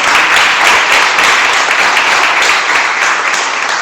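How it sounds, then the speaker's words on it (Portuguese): Church congregation applauding, a dense, loud, continuous wash of many hands clapping throughout, with no pauses. "Você pode aplaudir o Senhor Jesus? Aleluia! Pode aplaudir para Jesus."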